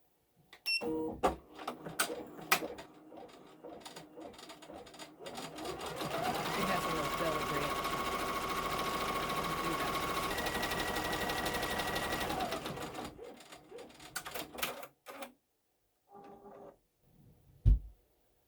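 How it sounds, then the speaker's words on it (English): An embroidery sewing machine running a satin stitch, a steady fast mechanical whir lasting several seconds, framed by clicks and clunks as it starts and stops. "Now it's going to do the picture satin stitch around the edges."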